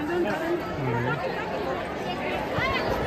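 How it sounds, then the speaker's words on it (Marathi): Steady crowd chatter from people waiting in a queue at Jejuri temple: a dense, continuous murmur of many overlapping voices, close and fairly loud, with no single voice standing out. "आज भरपूर गर्दी आहे बघा."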